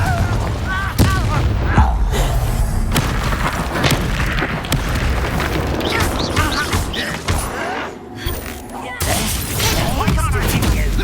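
Confringo fire-blast spells explode repeatedly in the Hogwarts Legacy video game, loud close bursts and cracks in a dense, continuous battle, with voices speaking throughout.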